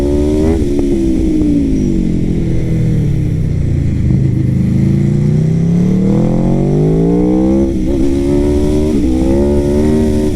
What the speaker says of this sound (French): Montée des enfers avec ce RSV4 2021 Factory frérot